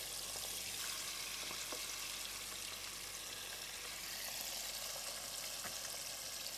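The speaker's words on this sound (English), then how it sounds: "while the fish head and tail is frying, we make some sauce here." Steady, dense sizzling of a fish head and tail frying in hot oil fills the whole clip at an even level, with occasional small pops and crackles.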